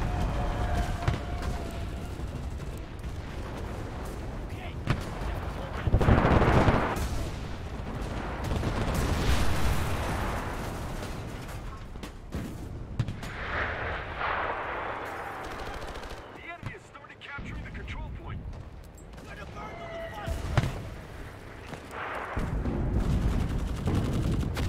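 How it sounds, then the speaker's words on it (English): Artillery barrage in the video game Enlisted during the Normandy invasion, with repeated heavy booms and bursts of gunfire rolling across the battlefield, loud and sustained over a dense background of combat noise. "Artillery support! Copy! Confirming fire!"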